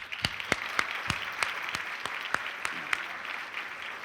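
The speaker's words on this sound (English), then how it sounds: "Please join me in giving a round of applause for Yehuda and Mashi Polstein." Applause from an audience at a community dinner, heard as a steady patter of many hands with a few sharper claps standing out at a regular pace, moderately loud and sustained throughout.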